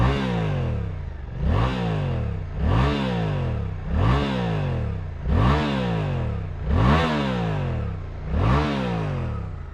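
A Suzuki GSX-8R middleweight motorcycle engine revs hard and repeatedly, about seven sharp rising throttle blips in a steady rhythm over a continuous idle, close and loud with no talking.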